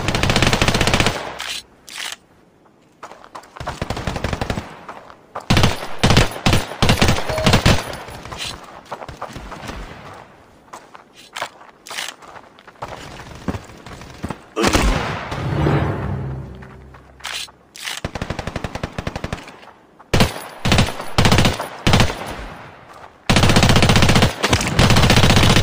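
Gunfire from the Standoff II mobile FPS video game, with rapid automatic bursts and single shots in loud clusters broken by short pauses across the stretch, no voices.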